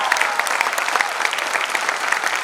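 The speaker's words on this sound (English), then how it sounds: "Huge round of applause for him." An audience at a Republic Day event applauds in a loud, dense burst of clapping that holds steady throughout, with no speech over it.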